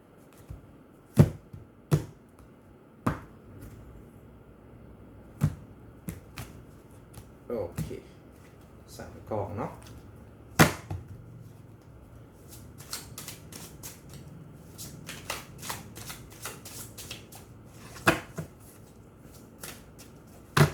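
A deck of tarot cards is shuffled and cut by hand. It comes as sharp, scattered snaps and taps with a quick flurry of riffles near the end, close by, and a voice is heard faintly.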